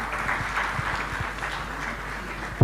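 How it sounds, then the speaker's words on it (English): Audience applause greeting Chief Olusegun Obasanjo at a governance event, a steady even patter of many hands held at moderate level for a few seconds, with no talk over it. "Can we please give him a round of applause?"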